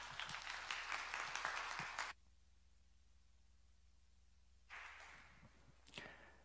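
A church youth congregation claps to welcome a preacher to the pulpit. A loud burst of applause stops abruptly, leaving a quiet, humming room, then a second softer wave of clapping rises with a few scattered claps.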